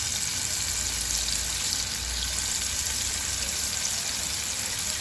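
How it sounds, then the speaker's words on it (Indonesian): Tofu frying in a small amount of oil in a pan, a steady close crackling sizzle that continues without a break, with no one talking over it. "Nah ini aku goreng. Aku ini minyaknya sedikit ya teman-teman, sedikit saja."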